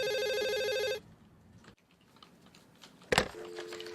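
Telephone ringing in an office gives a loud, harmonic electronic ring that cuts off, then after a quiet gap a clack and a softer ringtone tone begin, with no voices.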